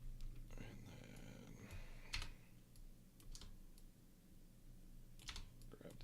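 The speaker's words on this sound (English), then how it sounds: "Just quickly type it." Fingers type quickly on a computer keyboard, light clustered keystrokes and a few sharper clicks, close but quiet, with faint murmured speech in the background.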